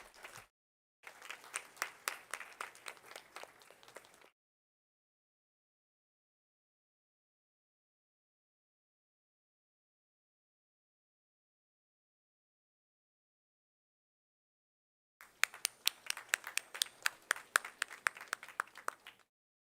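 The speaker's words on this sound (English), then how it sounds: "Please welcome them with a huge round of applause." Two bursts of a crowd clapping at an engineering graduation day ceremony, the first lasting about four seconds, then a long silence, then a second, sharper burst of rapid claps near the end.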